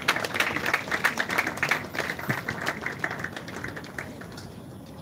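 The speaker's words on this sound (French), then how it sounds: "est-ce qu'on peut l'encourager avec nos acclamations" Mourners at a funeral service applaud a speaker, a dense patter of many hands clapping at once, loudest at first and then gradually thinning and fading.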